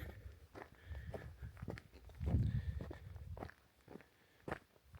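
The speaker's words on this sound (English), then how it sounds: "The only sound being my footsteps." Footsteps walking over ground in the silent Turkmenistan desert, soft crunching steps repeating near the microphone, with one louder scuffing patch midway and a sharp step near the end, no voices.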